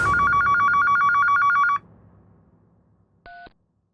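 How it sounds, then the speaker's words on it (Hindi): A telephone rings loudly and close with a rapid trilling ring that lasts under two seconds. After a short quiet gap, a single brief electronic beep follows. "अचानक फोन बजा।"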